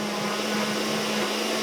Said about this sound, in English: we're going to slide the immersion blender over